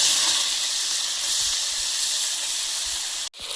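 Potatoes fry in hot oil in a wok, giving a loud, continuous close-up hiss that cuts off abruptly for a moment near the end, then resumes.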